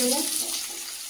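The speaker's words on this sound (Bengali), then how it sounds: "তেল গরম হয়ে গেছে, শুকনো লঙ্কা দিয়ে দেবো।" Dried red chillies hit hot oil in a pan and give off a steady, bright sizzling hiss that eases slightly as it goes on.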